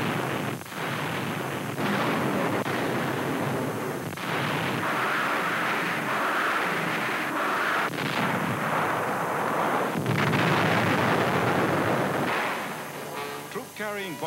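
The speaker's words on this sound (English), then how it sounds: "Rocket fire plows up enemy cave defenses on shore." Rockets and explosions pound cave defenses on the shore during the 1945 invasion of Okinawa, a dense, continuous roar of blasts and rumbling fire, loud and sustained, with a narrator speaking over it.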